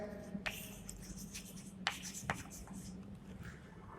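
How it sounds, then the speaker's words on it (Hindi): Pen writing on paper while working an accounting problem on partner admission and goodwill, a quiet steady scratching with a few sharper strokes, close and faint, with no talk over it. "यहां लिखेंगे टू कैश"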